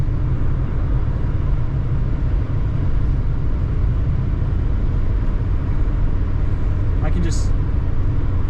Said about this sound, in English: we're going down the freeway at 70, so yeah, I mean, it works